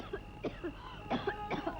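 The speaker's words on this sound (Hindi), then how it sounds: "इतनी बुरी तरह क्यों खांस रही हो?" A woman coughs badly in a 1981 Hindi film scene: a quick series of about five harsh, throaty coughs in close succession, fairly quiet and with no talking over them.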